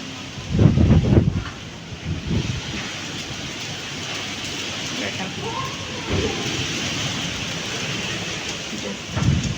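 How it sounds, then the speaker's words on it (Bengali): Gusting cyclone wind roars steadily with rain noise, heard from a veranda, with occasional louder rumbling bursts; no voices. "হঠাৎ করে ঘূর্ণিঝড় শুরু হয়েছে, এত বাতাস একদম সব উড়াই নিয়ে যেতেছে"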